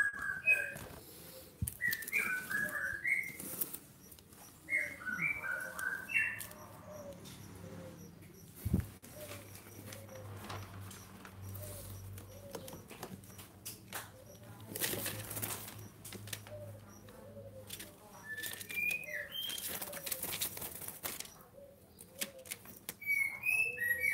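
A 7-month-old songbird whistles short bright phrases at intervals, close by, over a low hum and occasional rustling and fluttering.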